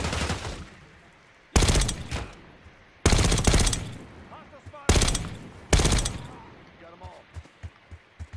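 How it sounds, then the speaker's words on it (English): Call of Duty: Black Ops 6 gunfire, four loud bursts of rapid automatic shots spaced a second or so apart, then fainter scattered pops, with game sounds and a voice-like sound between them. "Who is shooting at me?"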